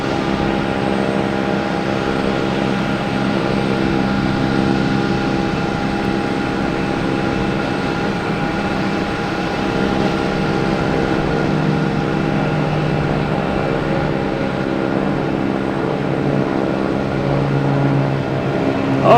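At Boston Logan Airport, a Delta jet arriving from Philadelphia and a departing Cape Air plane make a loud, continuous engine drone with steady humming tones, filling the whole stretch with no speech.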